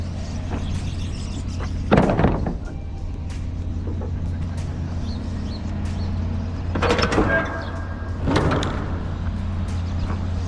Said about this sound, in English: I'm gonna open my doors.